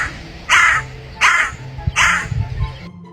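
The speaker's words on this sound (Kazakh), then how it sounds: "Қарға кар кар кар кар кар дейді." A cartoon crow gives three loud, harsh caws at an even pace, each short and close, with brief gaps of quiet between them.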